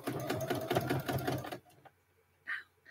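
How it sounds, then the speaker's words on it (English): A sewing machine runs in a quick, rattling stitching burst for about a second and a half, then goes quiet except for a couple of faint short clicks. "whenever I sew on the pad of the foot, I like it to take it just really slowly"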